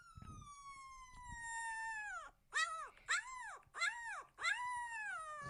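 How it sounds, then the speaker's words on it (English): A two-week-old German Shepherd puppy whimpers close by: one long, high, wavering whine that slides downward, then a run of four short rising-and-falling yelps. "This is one of their puppies."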